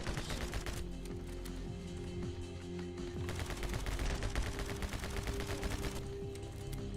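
Repeated weapon fire in a video game, a limited-ammo gun needing several shots to drop a target, comes as dense rapid bursts throughout over a steady game background, fairly loud and continuous.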